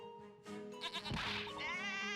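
A sheep bleats in the Professor Layton vs Phoenix Wright video game, a drawn-out wavering cry layered over steady background music.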